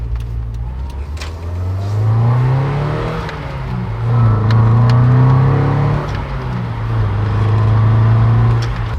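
Toyota MR2 fitted with D2 Racing coilovers driving on a highway, its engine droning loud and close from inside the cabin as it rises and falls through gear changes over road noise.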